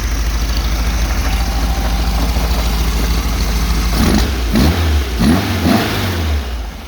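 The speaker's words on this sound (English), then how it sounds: "Engine revs pretty freely." A 1966 Volkswagen Beetle with a 1776cc air-cooled engine, synced carburetors and a single quiet-pack exhaust idles steadily, then gets blipped in several quick, free revs near the end, close and loud.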